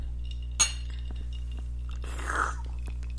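Glasses clink once in a toast during a casual podcast, a short bright ring followed by quiet sipping and soft clattering.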